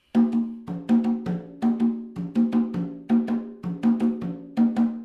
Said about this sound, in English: Classic conga calypso pattern.